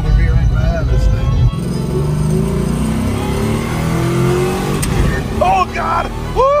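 A GM car with a 6-speed transmission and 308 gears accelerates hard on a track, its loud engine revving and climbing through gears before easing off, with people talking and shouting over it.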